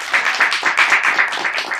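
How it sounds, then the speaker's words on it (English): Loud, close audience applause for a performer named Jeremiah at a live comedy show: dense, overlapping hand clapping with slight pulsing, sustained for the whole short stretch. "Another round of applause for Jeremiah."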